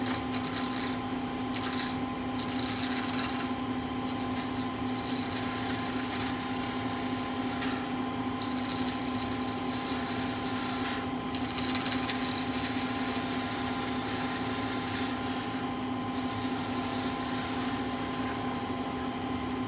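Steady hum of a wood lathe spinning while a lace bobbin is turned with a skew chisel, a continuous motor drone with faint intermittent scraping from the cutting tool, fairly quiet and without speech.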